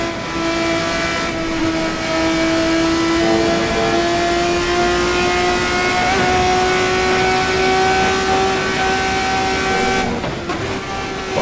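A 3.4-liter V6 in an RSS 3 race car in Assetto Corsa roars steadily close up, holding a high, sustained engine tone that shifts pitch slightly. Near the end it drops briefly, as on a gear change.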